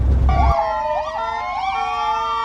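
A police car siren wails at a border crossing queue, heard near and loud from a truck cab, with three rising-falling sweeps over a steady tone after a brief low engine rumble.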